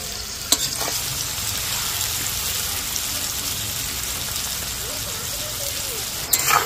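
Amla and sugarcane jaggery cook in oil in a pan, giving a steady close sizzle with scraping stirs and a couple of sharp utensil knocks.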